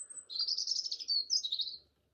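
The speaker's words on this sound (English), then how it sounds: "I'm loving that bird singing all the way through your reading." A bird sings a bright, high warbling phrase of rapid chirps and trills, clear and fairly close in a quiet setting, lasting under two seconds with no talk.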